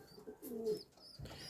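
Pigeons kept for sale coo softly in a short, low burst of two or three throaty calls, faint and close, without speech.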